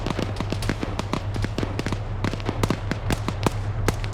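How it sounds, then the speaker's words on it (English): Rapid bursts of grenade and gunfire explosions in a multiplayer shooter match, dense overlapping cracks and thumps spaced irregularly over a steady low rumble, loud and continuous throughout. "More grenades being thrown"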